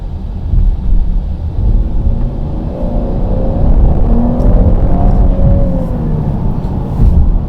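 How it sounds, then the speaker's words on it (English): A 2019 Chevrolet Blazer RS with a 303-horsepower V6 accelerates, heard from inside the cabin as a steady low rumble with an engine note that rises and swells, no talking. "We get to try out this V6 engine."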